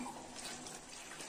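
A tumbler of water is poured into a pot of Chennai-style vada curry with coconut, making a quiet, continuous splashing trickle that lasts about a second.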